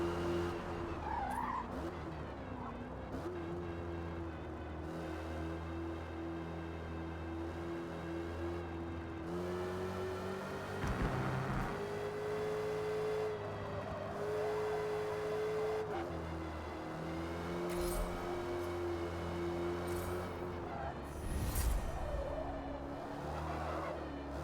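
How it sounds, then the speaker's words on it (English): A muscle car in a racing video game career mode drives hard with an eerie, spooky-sounding engine drone, steady and mid-loud, broken by repeated tire squeals and skids as it corners. "This spooky-ish sounding engine is bothering me."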